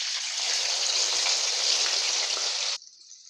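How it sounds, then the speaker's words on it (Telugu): Soaked lentils sizzle loudly in hot oil for a dal mixture, a dense, steady frying hiss that cuts off abruptly near the end, leaving a faint high sizzle. "బాగా హీట్ అయిన ఆయిల్లోనే మళ్ళీ పప్పును తీసుకొని వేసుకోవాలి."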